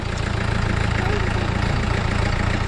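A vehicle engine idles steadily after starting, a continuous low rumble with a faint rattle that holds at an even level throughout, recorded during a trip to Munnar.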